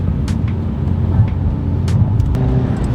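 A V10 BMW M5 with its muffler deleted cruises along a road, a loud, steady low engine drone heard from inside the car, continuous throughout with faint clicks and no talking.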